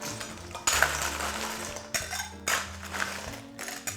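Ice cubes tumbling into a glass for a whisky cocktail with clementine juice, a few separate clattering drops and clinks at close range, otherwise quiet.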